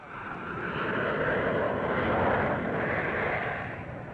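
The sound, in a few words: Air France Caravelle jet airliner flying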